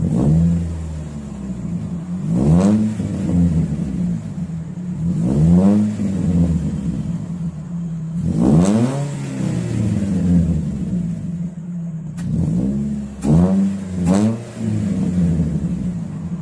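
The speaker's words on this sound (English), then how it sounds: "the first time when I start the car, damn, hear this and see, this is how my car starts." A Satria Neo sports car engine roars to life and revs repeatedly, with several sharp climbing surges over a steady deep rumble, loud and close, no talking.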